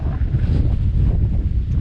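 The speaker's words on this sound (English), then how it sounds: "bloody hell, it's windy again." Wind buffets a microphone out on the open moors by a quarry at Pule Hill, Marsden, giving a loud, low, rumbling roar that gusts unevenly throughout.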